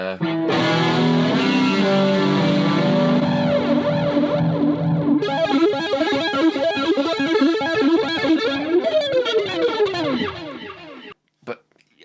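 Electric guitar through a small practice amp with effects, boosted by a Strymon Riverside pedal, chords and bends ringing with chorus and echo, loud and sustained before cutting off near the end.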